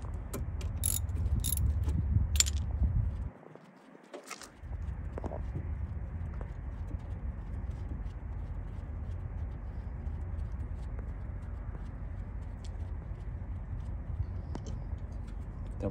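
Brake caliper bolts being removed from a rear brake on a Hyundai Elantra hatchback: a few sharp metallic ratchet clicks at the start, a brief pause, then steady low mechanical rumble with faint scattered clicks.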